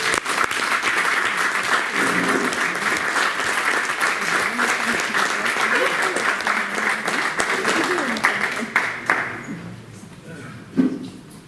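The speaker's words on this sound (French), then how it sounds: "Je vous demande d'applaudir quand même." Applause rises at a municipal council meeting, a sustained clatter of many hands, with a voice speaking underneath throughout, before the clapping thins out and stops near the end, leaving a few scattered claps.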